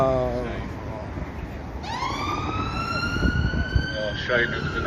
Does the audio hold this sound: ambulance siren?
yes